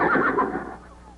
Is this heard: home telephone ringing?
no